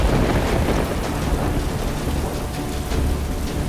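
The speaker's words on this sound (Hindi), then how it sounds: "किंतु अब इस वर्षा से कैसे निपटे?" Heavy rain and thunder from a thunderstorm pour down in a dense, unbroken roar that stays loud and even throughout, with no voices.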